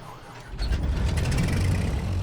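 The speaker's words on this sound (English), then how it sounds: "And there we go, beautiful 6-cylinder noise." Six-cylinder piston engine of a Cessna 414AW catching on the starter in Microsoft Flight Simulator, a low rumble rising abruptly after half a second and holding a steady, loud idle to the end.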